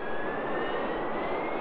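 An RAF Harrier jet with Rolls-Royce Pegasus engines roars steadily, a loud, continuous broadband jet-engine whine with no voices over it.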